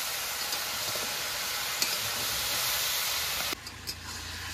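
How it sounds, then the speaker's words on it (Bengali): Bottle gourd with a little turmeric sautés in a pan, a steady close sizzle with light stirring scrapes that drops to a quieter hiss near the end, no voices. "লাউটাকে কষিয়ে নেব।"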